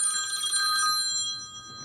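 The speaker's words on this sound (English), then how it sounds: "got a phone call." A telephone bell rings in a bright, steady metallic trill for about a second, then breaks off and leaves a faint room hum.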